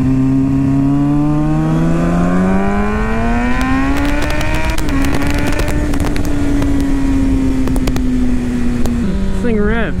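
A Kawasaki Ninja 636 motorcycle ridden hard, loud close engine whine climbing steadily in pitch, briefly holding, then dropping as it shifts down, with constant wind rush throughout.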